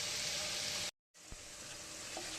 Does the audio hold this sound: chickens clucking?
no